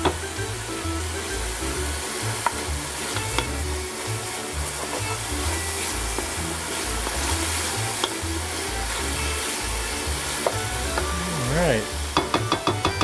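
Chopped tomatoes sizzle and simmer in a pan as the base for an Italian mussel soup, a steady close frying hiss with stirring clatters and scrapes, and someone speaks briefly near the end.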